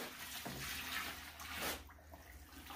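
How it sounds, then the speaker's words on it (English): Water splashes and pours in a short burst into a pre-mixed sand and plaster mix, with a brief sloshing surge near the end. "I'm gonna throw in the water."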